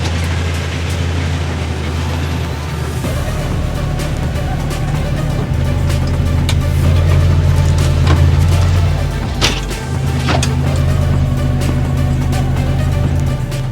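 An overlanding vehicle with lockers on both axles crawls over rocks in Moab, Utah, its engine a low steady rumble with occasional knocks and scrapes from the terrain, heard close.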